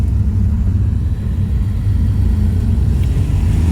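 Porsche cars drive downhill on the mountain road from Stelvio to Bormio as a steady, loud engine and road rumble from inside a following vehicle, with no breaks and no talking.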